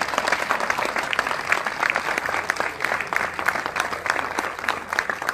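A crowd gathered for a political welcome bursts into loud, sustained applause, dense and steady for several seconds with only faint voices underneath.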